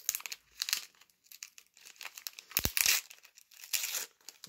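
Packaging around a parcel of Pokémon cards being unwrapped: bursts of close crinkling and crumpling plastic and paper, with a sharp tearing rip near the middle, in irregular handfuls separated by short pauses.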